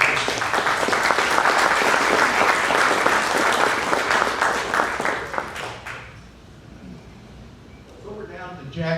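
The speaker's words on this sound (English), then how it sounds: "I'd like to have a round of applause." Audience at a museum speaker series breaks into dense applause for about six seconds, then it fades out and a voice begins speaking.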